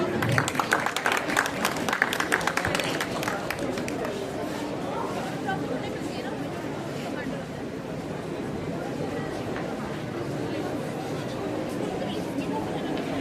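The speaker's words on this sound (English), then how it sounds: "Round of applause." A crowd at a cadet investiture ceremony claps in applause, strongest at the start, then settles into steady clapping mixed with murmuring chatter.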